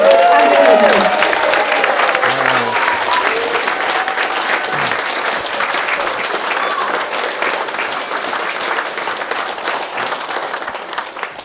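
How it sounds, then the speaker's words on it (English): A large audience at a public talk bursts into loud, sustained applause, with dense clapping that fades slightly over about ten seconds; a voice is briefly audible at the start. "please, a massive, massive round of applause and appreciation"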